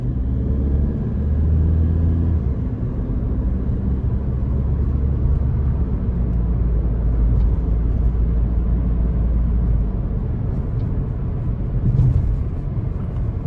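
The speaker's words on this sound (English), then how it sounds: "We'll give it some throttle here and drive." A 2014 Volkswagen Jetta Sportwagen TDI diesel drives under throttle, heard from inside the cabin as a loud, steady low rumble with engine drone and road noise throughout.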